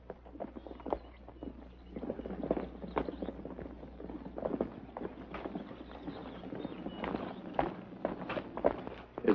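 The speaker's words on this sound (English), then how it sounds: "Tell them to bring the horses." Several horses move off along a trail in the Old West, hooves thudding and clopping irregularly. The steps come at a moderate distance and fairly quietly, with no voices.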